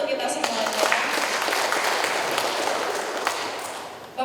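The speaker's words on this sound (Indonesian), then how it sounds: "tepuk tangan untuk kita semuanya." Applause from an audience at a morning seminar session, a dense, steady wash of clapping that holds evenly for several seconds before tapering off.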